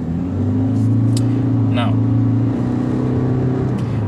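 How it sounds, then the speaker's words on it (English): A 2017 Toyota C-HR 1.8 litre hybrid with an e-CVT drones steadily as it accelerates, a sustained engine hum heard from inside the car, with someone speaking briefly over it. "you hear this is a CVT or e-CVT"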